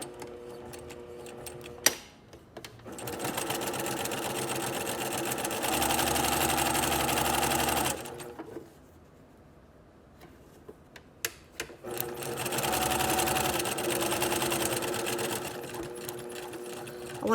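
Sewing machine stitching a back stitch along a garment neckline at a quarter-inch seam allowance, a close steady whirring hum in two runs of several seconds, separated by a pause with light clicks.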